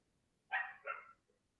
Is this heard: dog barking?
yes